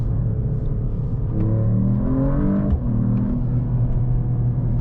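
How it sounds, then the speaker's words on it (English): 2025 Mercedes-AMG E53 plug-in hybrid sedan accelerating hard in second gear, a deep engine rumble rising steadily in pitch from inside the cabin, loud and continuous. "Let's try the acceleration here. Let's go to second gear."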